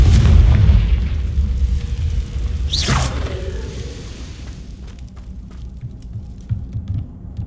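Fire-blasting Confringo spell from Hogwarts Legacy: a rising whoosh that bursts into a loud boom, then a long rumbling decay with scattered crackles and debris.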